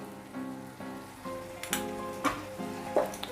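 Chopped tomatoes and salt sizzle in an oiled pan for Punjabi rajma masala, with a steady crackle broken by several louder bursts as the mix is stirred and scraped.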